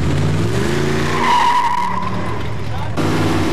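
An Excalibur automobile skids with oversteer as its back end swings around, tires squealing over engine noise in a long smear before the sound cuts off abruptly and the motor resumes.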